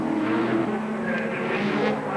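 Holden Group A touring race cars at the 1988 South Australia Cup in Adelaide roar along the straight, a continuous loud engine drone with a faint rising whine of a passing car.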